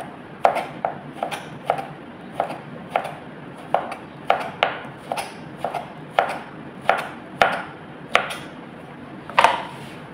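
A knife chops thinly sliced onion on a board for ukoy, with sharp, evenly spaced thuds about once per second, close and clear over a soft background hiss.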